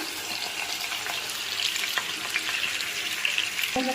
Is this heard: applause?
no